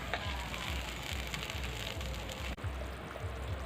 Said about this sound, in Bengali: এবার কিছু সময় ধরে ফুটিয়ে নেব।